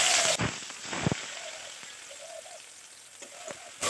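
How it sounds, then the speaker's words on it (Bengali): Whole spices tempering in hot mustard oil in a kadai for okra chachchori, a steady close crackling sizzle with a sharp burst at the start and end. "তেলটা গরম হয়ে গেছে, আমি তেল ফোড়ন দিয়ে দিচ্ছি।"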